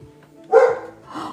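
Two short dog barks indoors, the first louder and the second softer, with a quiet background.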